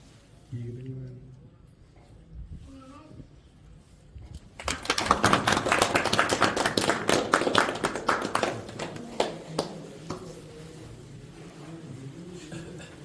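Boys clapping at a village gym opening in Punjab, a burst of quick, dense claps and taps that swells after a quiet stretch of talk and then thins out, with voices around.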